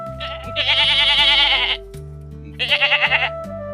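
A goat in an animated story bleats twice, two loud wavering calls close by, the first longer, over a quiet musical background with no speech.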